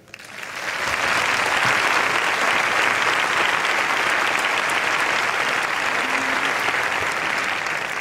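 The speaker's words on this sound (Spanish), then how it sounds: "Un aplauso para él." Loud, sustained applause from an audience at a regional medal award ceremony, swelling quickly after a brief start and holding as a thick, even roar of clapping to the end.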